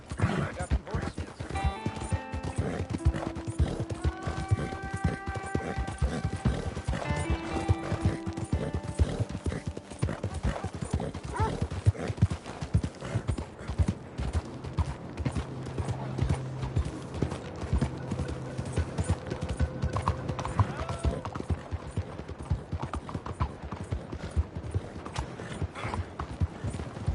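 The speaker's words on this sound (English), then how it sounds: "I got some horses" Video game horses clip-clopping in a steady trotting rhythm, hooves repeating throughout over music-like tones and mechanical clatter.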